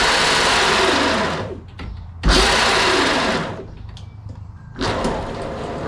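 A 3D printed half-scale RX7 car driven by an electric motor in its lowest gear gives a loud, close motor whine in three bursts separated by short pauses.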